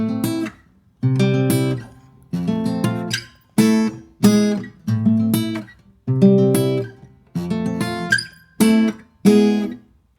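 Guitar chords for a song strummed one at a time, with four strings plucked together, making a steady series of about ten separate ringing chords, each stopped short before the next, played alone and close.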